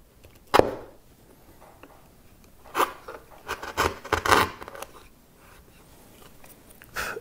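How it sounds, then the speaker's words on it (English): A chisel pares a small chamfer off the sharp edge of a piece of wood, producing a few short, crisp scraping and shaving strokes, close by and separated by quiet gaps. "So all I'm going to do is take the chisel,"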